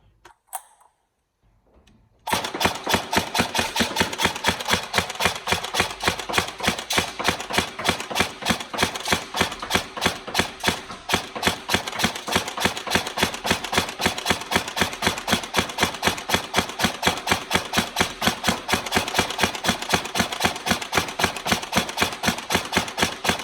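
A G&P M4 airsoft electric gun fires long, sustained full-auto strings: a fast, even stream of mechanical clicks that starts after a couple of faint sounds and carries on loudly for about twenty seconds.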